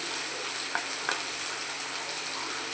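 Green chili paste and spices fry in hot tempering oil, producing a continuous dense sizzle with a couple of faint stirring clicks.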